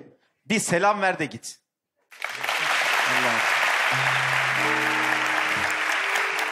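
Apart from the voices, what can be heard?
studio audience applauding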